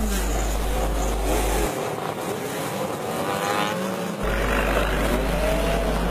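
A Holden Gemini Group C race car pulls away from the formation grid at Sydney Motorsport Park, its engine note rising amid steady track and crowd noise across a large field of Group A and Group C cars.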